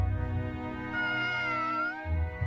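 Cats meow in the Sword Art Online Alicization Lycoris video game, a few drawn-out, clear meows heard close and alone with no talk over them.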